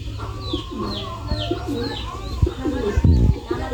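A dove calls near a maize field, giving a series of soft repeated coos close by, with a few chirps and a thump near the end.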